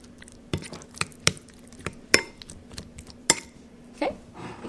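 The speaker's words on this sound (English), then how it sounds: "Then I'm just going to mix it in until it's all nice and blended." Spoon clinking against a bowl while rinsed blueberries are stirred into yogurt and honey, a handful of sharp separate taps over soft mixing sounds, close and fairly quiet.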